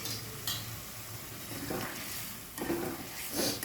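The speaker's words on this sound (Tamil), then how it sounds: "நல்லா தள்ளன்னு கொதிக்குது" Schezwan chutney with oil, salt and sugar simmers in a pan, its quiet bubbling broken by a few short sputtering pops, heard close with no voices.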